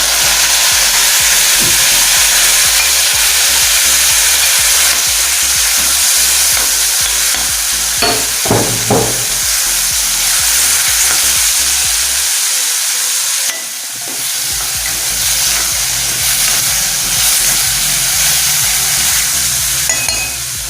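Dried red chillies and chopped mango fry in a pan with a loud, steady sizzle, close by, as a few stirring scrapes and clinks break through midway. No one speaks.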